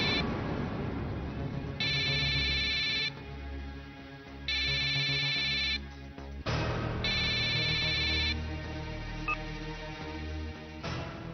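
A phone ringtone plays in three repeated bursts of a bright, warbling electronic melody, fairly close and clear, over a low room hum and faint background music, with no talking.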